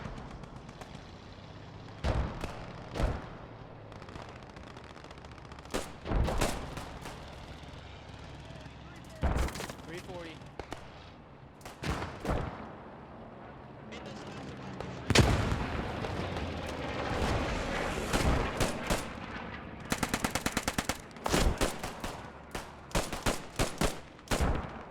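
Rifle and pistol gunfire in the realistic WWII shooter Post Scriptum during a Market Garden event at Nijmegen, with loud sharp shots and rapid bursts throughout, distant booms, and a voice talking over the battle.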